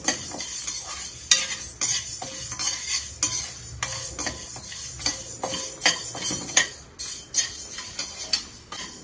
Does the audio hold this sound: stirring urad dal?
yes